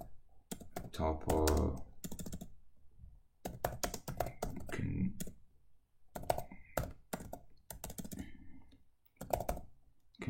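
Short bursts of keyboard typing as a name is entered on a computer, quick clicking runs alternating with a person talking.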